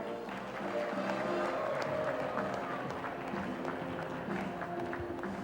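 Conference audience at a human rights dialogue breaks into steady, moderately distant applause, a dense patter of many hands clapping that swells and then holds for several seconds.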